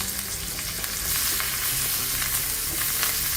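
Loud, continuous crackling sizzle of a spice tempering with red chili powder and coriander frying in hot oil, steady and close, with no talking.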